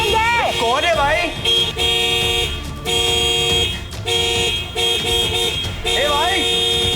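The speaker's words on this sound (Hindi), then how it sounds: "कौन है जो इतना जोर जोर से हॉर्न बजा रहा है?" A car horn honking loudly, repeated long blasts close by, layered with rising and falling electronic tones and voices talking.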